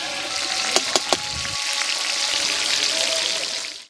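Katla fish belly pieces frying in a pan with steady oil sizzle and crackle, a few sharp pops early on, close and fairly quiet, with no talking over it.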